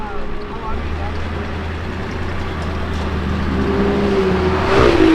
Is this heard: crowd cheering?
no